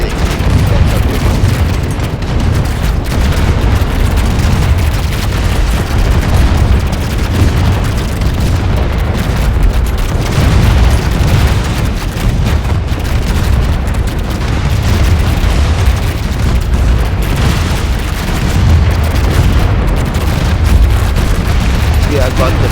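Turret battle in the space strategy game AI War 2 with a steady, dense barrage of booms and blasts, loud and unbroken for over twenty seconds, a thick rumbling roar with no pause between explosions.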